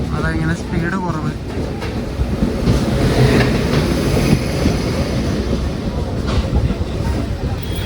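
A passenger train rolls slowly along a loop line near Secunderabad while a goods train occupies the main line. Wheels rumble and clack steadily from close by, with a brief squeal, under a person talking.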